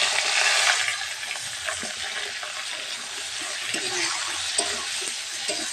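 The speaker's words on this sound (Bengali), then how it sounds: "পেঁয়াজটা কুচিয়ে আমি এবার দিয়ে দেব।" Chopped onion going into meat cooking in a pan, with a loud sizzle and steady frying hiss at first, then continuing fry under scattered scraping and stirring knocks, close up and without talk.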